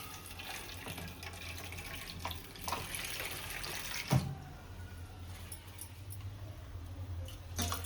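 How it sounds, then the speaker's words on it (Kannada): Moong dal being rinsed in water for a payasa, with a steady running-tap wash and faint splashing and clinking near the middle, close and moderately quiet throughout. "ಹೆಸರುಬೇಳೆ ಸ್ವಲ್ಪ ತೊಳ್ಕೊಳ್ಳೋಣ."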